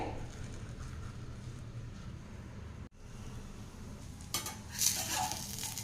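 Chapati cooking with oil on a flat tawa, giving a quiet steady sizzle with a brief break midway, then a few light utensil scrapes and clinks toward the end.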